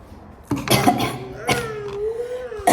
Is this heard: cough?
yes